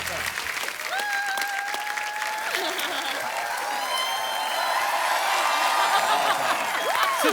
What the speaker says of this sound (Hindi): जोरदार तालियां जैकलीन और सिद्धार्थ मल्होत्रा के लिए